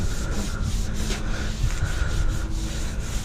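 A car body panel's paint is rubbed with a Scotch-Brite pad and acetone, giving a close, steady abrasive scrubbing in quick back-and-forth strokes.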